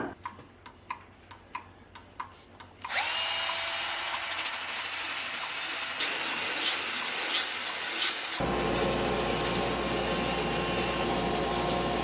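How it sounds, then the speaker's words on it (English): Sanding on a lathe, working the lip of a black oak platter: a steady loud abrasive rush with a constant motor hum, following a few light ticking taps at the start. "I also need to sand this lip"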